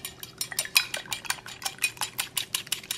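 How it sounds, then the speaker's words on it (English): A whisk rapidly beats flour, salt and pepper in a bowl, producing a close, bright series of quick metallic clinks and scrapes in an even rhythm, with no talking. "I'm just going to use this whisk to combine the flour and salt and pepper"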